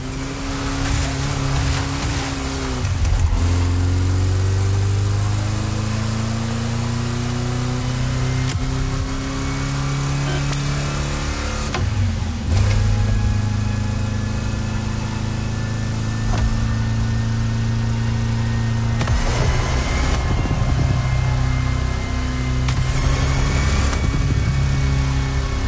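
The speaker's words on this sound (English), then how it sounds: "That good old Type 2 engine to its absolute limit" A Volkswagen Type 2 bus engine in The Crew Motorfest racing game drones loudly and steadily, its pitch climbing and falling through repeated revs and gear changes, pushed hard throughout with no talk.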